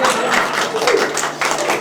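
Scattered audience clapping at a disability independent-living discussion forum, brief and moderately loud, a short patter of hands over room noise.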